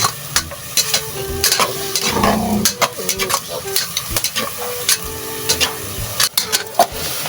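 Garlic, chili, lemongrass, ginger and onion stir-frying in a pan, with a steady sizzle beneath repeated sharp clacks and scrapes of a spatula stirring against the metal, close and fairly loud.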